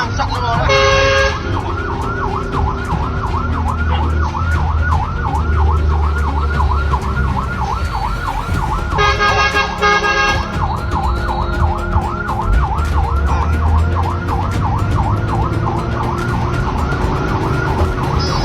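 Fire truck siren wails in a steady, rapidly cycling rise and fall, loud and close, with short bursts of air-horn blasts near the start and midway, over a low rumble of traffic on a road.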